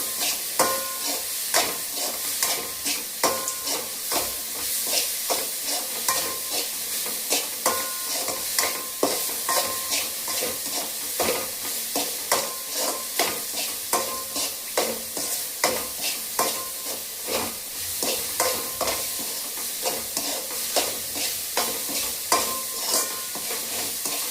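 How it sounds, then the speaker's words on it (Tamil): Onions with asafoetida powder sauté in a pan, a continuous sizzle broken by regular scraping strokes of a stirring spoon, close and steady throughout. "ஆட் பண்ணி நல்லா வதக்கிக்கிறோம்."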